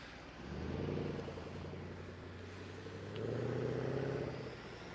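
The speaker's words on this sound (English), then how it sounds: "Got 3 cars waiting to pass this intersection here." Several cars idling and moving off through a road intersection, with a low engine rumble that swells twice as vehicles pull away nearby.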